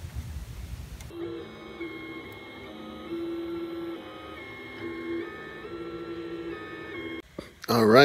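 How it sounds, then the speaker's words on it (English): A 3D printer prints a Google Home Mini wall mount nearby, with a steady whirring motor hum and faint ticking movements, a brief pause, then a burst of louder stepper-motor squeals at the end. "your printer's down there working"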